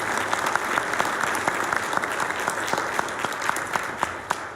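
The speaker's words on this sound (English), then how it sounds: "how about a big round of applause for" Audience applause at a membership gathering: steady, dense clapping from a sizable crowd, fairly distant and even, holding for several seconds with a few sharper claps poking through.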